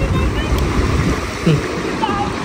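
Sea waves wash steadily against the shore in Greenland, a continuous broad rushing surf that carries through the whole stretch with faint voices in the background.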